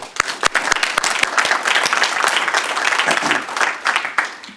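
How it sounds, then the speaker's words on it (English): A room of business people at a chamber of commerce breakfast meeting gives a round of applause, dense sharp claps close and loud, thinning toward the end with faint voices underneath. "please give a round of applause for Lou"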